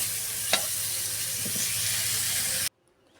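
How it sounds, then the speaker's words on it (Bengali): Potatoes frying in oil for a meat dish give a loud, even sizzle with a couple of stirring scrapes, then the sound cuts off abruptly into near silence. "মাংসের জন্য আলু ভাজা হচ্ছে"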